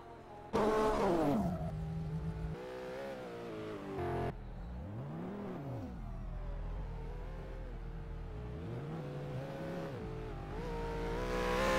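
A GT race car in a sim racing game at the Nürburgring Nordschleife, its engine droning and revving up and down as it reverses and rejoins the track, steady and close with no talking.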